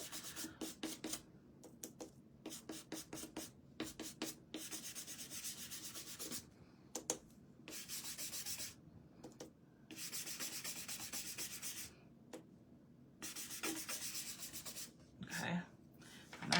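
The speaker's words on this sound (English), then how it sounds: "I'm going to sand this, so a lot of this is gonna come off" A painted bunny egg from a DIY craft kit is hand-sanded in quick rhythmic bursts of dry scratchy rubbing, alternating with short pauses and longer steady strokes, close and fairly quiet without voices.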